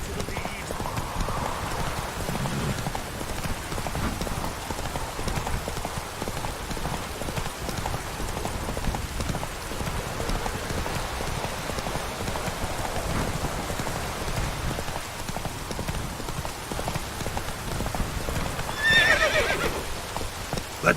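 Geralt's horse Roach gallops through rain in The Witcher 3, hooves drumming steadily under a constant wash of rainfall, with a brief whinny near the end and faint voices.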